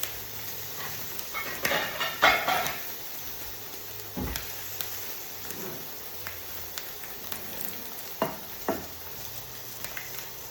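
Octopus searing in a hot pan for charring: a low, steady frying sizzle runs throughout, with a few brief scrapes and taps from handling, fairly close and with no talking over it.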